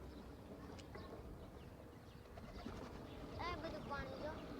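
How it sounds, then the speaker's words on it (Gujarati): Pet pigeons coo softly at a distance amid low background noise, with a few faint bird calls near the end. "જો આપણા કબૂતર બધા"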